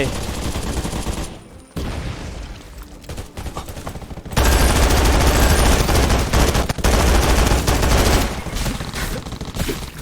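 An M249 machine gun in the Undawn video game fires repeated loud bursts with short pauses between them, and the heaviest sustained stretch comes midway through.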